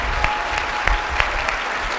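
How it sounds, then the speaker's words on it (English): Loud, close audience applause at a presentation event, a steady wash of clapping with a few sharper individual claps standing out. "let's give Bob Gridelli one more round of applause."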